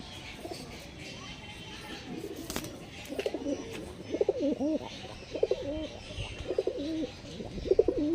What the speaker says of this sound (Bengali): চলুন এবার দেখাই মঙ্গলগিরির পায়রা এক জোড়া